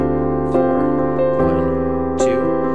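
Piano chords struck on beats one and three of a worship progression, three loud sustained attacks ringing out alone with no talk.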